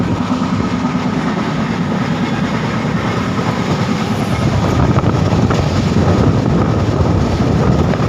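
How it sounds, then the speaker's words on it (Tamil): A moving passenger train from Egmore to Tanjore in Tamil Nadu, India, rumbles steadily with a rattling clatter and constant wind-like roar. It is heard from inside, with no talking. "ஓ ட்ரெயின் எவ்வளோ ஃபாஸ்ட்டாக போகுது பார்க்கணுமா?"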